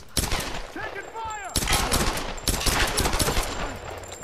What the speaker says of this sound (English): Let's try the pistol.